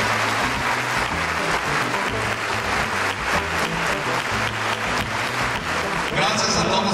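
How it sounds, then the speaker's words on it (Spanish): A crowd at a 15th anniversary celebration applauds warmly, with continuous dense clapping over low background music throughout. "Un aplauso, por favor, para mi hermano, Edmundo García."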